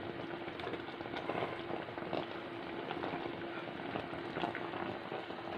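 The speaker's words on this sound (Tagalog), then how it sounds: "kumukulo na mga idol" Pork adobo broth simmering in a pot, a steady low bubbling with faint crackles, close and quiet, with no voices.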